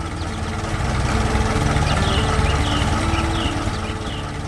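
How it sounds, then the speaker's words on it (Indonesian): A red farm tractor pulling a trailer full of crops runs steadily, its engine a continuous low chugging drone that stays loud and even throughout, alone without talk. "Traktor merah dengan trailer penuh tanaman sedang berjalan di tengah pemandangan industri yang penuh mesin"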